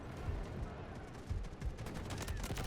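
Automatic rifle fire in the Delta Force video game from a modded CAR-15, with repeated short bursts and single shots crackling steadily through a busy battle mix, voices talking over it.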